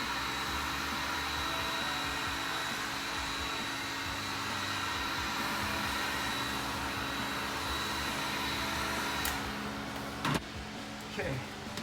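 A heat gun blows with a steady, loud whirring hiss while warming the fender of an Alfa Romeo GTV6 for fender rolling, continuous and close, cutting off sharply near the end.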